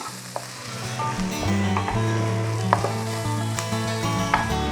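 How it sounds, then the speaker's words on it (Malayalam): Chopped onion sautés with garlic in a pan for egg vegetable pasta, giving a steady, close sizzle with a few stirring scrapes and clicks over a continuous tonal background. "ചോപ്പ് ചെയ്ത് വെച്ചിരിക്കുന്ന ഒനിയൻ പാനിലേക്ക് ആഡ് ചെയ്യാം അതിനുശേഷം നല്ല രീതിയിലൊന്ന് സോർട്ട് ചെയ്യണം"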